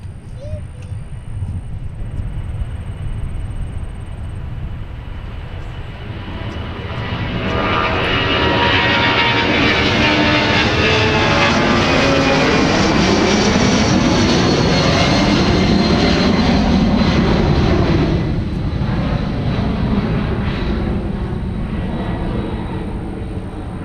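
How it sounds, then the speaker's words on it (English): A Delta airliner lands at Minneapolis–Saint Paul airport and rolls out toward the exit taxiway, its jet engines roaring loudly and steadily, swelling midway as the reverse thrust builds, then sustaining a broad rumble. "Delta 413 coming in from Los Angeles and rolling along all the way to the exit on"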